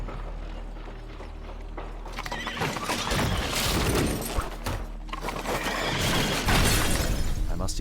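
A horse whinnies and neighs in Sherlock Holmes: The Devil's Daughter, its calls rising over clattering mechanical noise and hoof clops, fairly loud and close with no talking.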